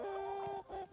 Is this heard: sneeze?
no